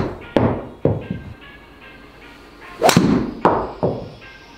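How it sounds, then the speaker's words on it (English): Hybrid golf club striking golf balls on a practice range: a few sharp, loud impact cracks at irregular intervals, each followed by a brief ringing decay, with a louder strike midway and quiet background between shots. "let's hit a couple more shots with the hybrid"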